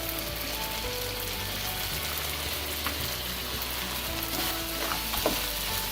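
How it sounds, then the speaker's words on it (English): Cashew fennel chicken fry sizzling steadily in a pan on medium heat as it is stirred, a constant close crackle with occasional scraping stir sounds, no voices. "On medium heat, I'm going to give it a quick stir."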